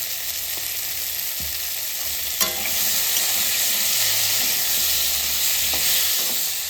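A curry of potato and radish frying and being stirred in a pan. A steady close hiss of sizzling oil runs throughout with occasional scraping clinks of the spoon and no talk.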